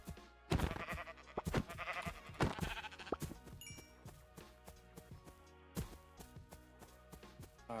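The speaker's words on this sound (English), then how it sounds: "Kill the white sheep along the way." Sheep bleat in the video game Minecraft alongside thuddy hits and soft clatter, several short bleats heard up close amid a busy game soundscape, with no talk.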